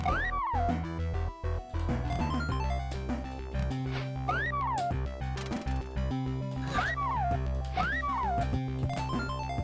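Cartoonish cat meows with rising and falling pitch sound repeatedly, roughly every two seconds, as rocks are thrown at cats and birds in a video game, over a steady loud musical and game backdrop.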